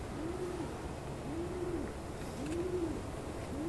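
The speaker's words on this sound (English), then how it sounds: "Stupid pigeons." Pigeons coo in the horror video game Summer of 58, giving four repeated soft rising-falling coos at a steady pace over a constant hissing ambient bed, with no talking.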